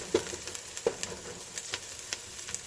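Onions frying in a pan for spaghetti sauce give off a steady close sizzle, speckled with light crackles and a few sharper utensil taps, and no one speaks.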